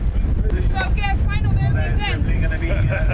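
Strong wind buffets the microphone with a constant low roar, while people talk over it.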